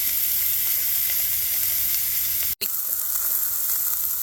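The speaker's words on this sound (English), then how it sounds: "Got my burger here into the frying pan" Steady, close sizzling of a burger patty frying in a pan, a constant crackly hiss with a brief dropout partway through.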